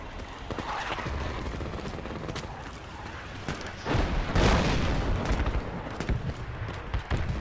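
Mortar rounds exploding in the Project Reality military game, with city warfare on Operation Marlin: a continuous din of gunfire and booms, a heavier burst of blasts swelling around the middle, no talk.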